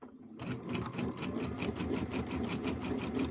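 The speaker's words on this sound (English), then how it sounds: "I'm going to hold it here and just let it do a couple stitches" A sewing machine stitching pieced fabric blocks, starting after a brief pause and then running in a fast, even mechanical chatter close by with no voices.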